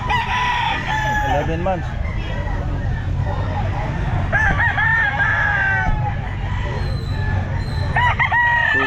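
Lemon Sweater gamecocks crow repeatedly at a busy outdoor pet market, several loud, drawn-out calls close by over a murmur of crowd noise, while someone speaks.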